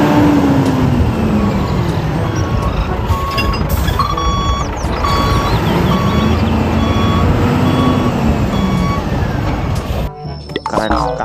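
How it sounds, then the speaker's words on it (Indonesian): A toy cement mixer truck sounds loud, regular reversing beeps over a droning whir, with a rising and falling tone throughout before cutting off near the end. "Wah, ini mobil truk molen."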